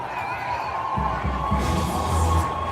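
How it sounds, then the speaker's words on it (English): A street crowd in Wisconsin cheers for Trump, heard as a steady wash of distant voices and shouts with a few louder whoops rising over it. "They're all out in the street. They're cheering Trump."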